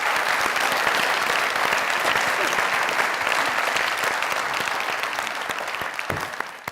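Steady, dense applause from a studio audience at a comedy talk show fills the whole stretch at an even level, tapering slightly toward the end.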